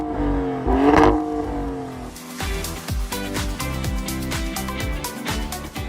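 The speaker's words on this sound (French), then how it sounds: "enclencher le mode Corsa, histoire d'avoir une conduite hyper sportive et d'entendre l'échappement pétarader" A Maserati Grecale Trofeo SUV in Corsa mode revs hard, then its exhaust crackles and pops in a rapid run of sharp bursts as the engine note drops and rises again, loud and close.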